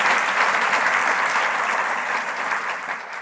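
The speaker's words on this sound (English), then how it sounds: "Please join me again in another round of applause for Greg." Lecture hall audience gives a sustained round of applause for a guest speaker, a thick, even patter of many hands at close range with no voices over it.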